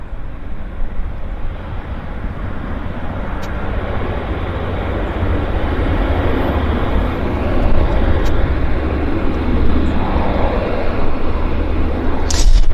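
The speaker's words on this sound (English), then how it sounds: "Saab 340 touching down. Pacific Coastal." A Pacific Coastal Saab 340 turboprop touching down at Vancouver airport: a steady, moderately loud engine roar that swells slightly as it rolls, heard from a distance with no talk.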